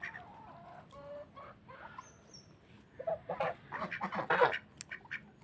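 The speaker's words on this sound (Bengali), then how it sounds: "এই হলো আমার মুরগি" Hens in a village yard cluck, quietly and sparsely at first, then in a louder, busier cluster of clucks mixed with nearby duck calls toward the end.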